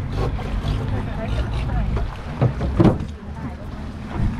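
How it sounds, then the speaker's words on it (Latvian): A small six-person boat moves over the sea near Railay beach in Thailand, with steady wind and water rushing, a couple of louder splashes, and faint voices mixed in. "Nu, vēl esam laiviņā."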